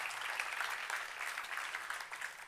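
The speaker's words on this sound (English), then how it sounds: "give a big round of applause for Scott for coming all the way here from Ohio" A conference audience bursts into sustained applause, many hands clapping in a dense, even roar that holds steady for the whole stretch.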